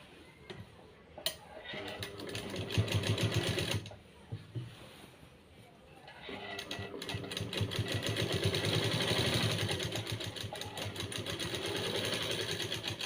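A sewing machine stitching a pocket onto a maxi dress runs in a rapid mechanical ticking whir, starting and stopping in bursts, with a voice speaking quietly over parts of it.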